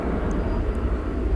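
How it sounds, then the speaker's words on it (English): An Airbus A300 airliner taxis at night at DFW airport, just released from its tug, giving a steady, close, low jet-engine rumble with a broad roar that holds level throughout and no voices. "Give you one last look at this A300, which has now been, I believe, unencumbered from its tug as it prepares to head over to the east side for takeoff."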